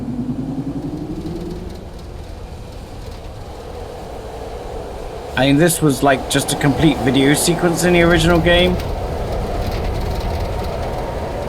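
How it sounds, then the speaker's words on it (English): A train ride in the Riven remaster game, a steady low rumble of rail travel running throughout, with someone talking over it and a brief burst of brighter mechanical clatter midway. "And we can enjoy our train journey."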